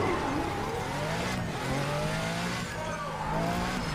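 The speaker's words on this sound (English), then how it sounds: "That was a nasty fucking car sound, dude." Car engine revving with tires squealing in a crime video game, a steady loud rev with sliding pitch sweeps running through the whole stretch, while voices talk over it.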